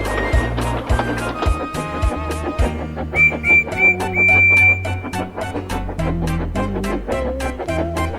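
Steam engines Edward and Thomas whistle to each other as they pass, giving several bright sustained toots over a busy musical accompaniment with steady rhythmic beats.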